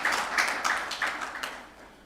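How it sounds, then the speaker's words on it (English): An audience at the launch of a coal logistics plan and policy gives a short burst of clapping, a few distinct claps standing out before it quickly dies away. "So I request all of you to please give a big round of applause to Ministry of Coal."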